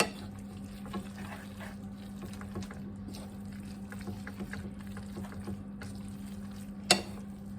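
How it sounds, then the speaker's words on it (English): Carbonara pasta is stirred in a pan with soft, close wet scraping and mixing sounds over a steady low hum, with one sharper knock near the end. "now just giving it a good mix round again"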